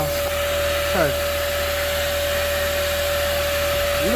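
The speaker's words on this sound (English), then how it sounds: "Vacuum wipe down." A vacuum cleaner runs steadily inside a 2000 Astro van, giving a continuous whining drone with a high steady tone throughout, and a faint chirp-like sound passing over it.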